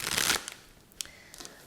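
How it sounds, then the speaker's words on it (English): A deck of tarot cards is shuffled in one short, brisk riffle at the start, followed by a few faint card taps and slides, close and quiet, with no talking. "let's go ahead and shuffle our tarot to see what else we get for you"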